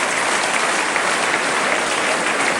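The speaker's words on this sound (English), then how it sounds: "receiving the applause of the Saints crowd" A St Helens Saints rugby league crowd applauds steadily as an injured player is taken off the field against Leeds, a dense continuous wash of clapping filling the stadium.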